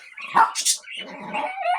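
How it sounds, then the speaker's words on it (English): Outside dogs barking and yipping while being fed, a few loud close barks followed by rougher growly vocalizing. "Dan's out feeding the outside dogs."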